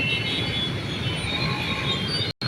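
A metro train rumbles past close by in heavy rain, between roads with heavy traffic, a dense rolling roar with high metallic wheel squeal on top, cutting off abruptly at the end.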